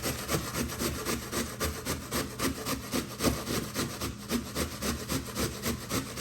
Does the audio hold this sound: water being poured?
no